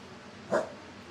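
A single short dog bark rings out once, moderately close, over quiet room background.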